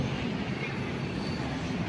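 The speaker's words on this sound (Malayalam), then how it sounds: "ദേ പോകുന്ന ട്രെയിൻ കണ്ടോ" A passenger train bound for Thiruvananthapuram, Kerala rumbles past at a steady, loud roar with broad noise throughout and no voices.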